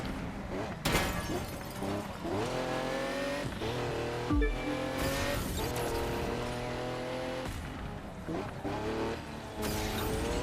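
Car with nitro boost in the racing video game The Crew 2, engine revving and roaring with gear shifts and sharp crash impacts, under a voice talking over the gameplay.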